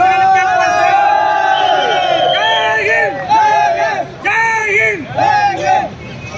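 A packed theatre crowd at a film screening whoops, shouts and cheers loudly, with excited voices and chants rising in repeated bursts; close, dense and continuous.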